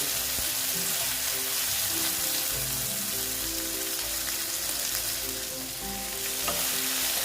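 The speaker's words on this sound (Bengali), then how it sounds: "দেখো দিয়ে আবার আমি একটু ভেজে নিচ্ছি" Steady, loud sizzling of onions and tomatoes frying in a pan, with occasional scraping stir strokes, continuous and close throughout.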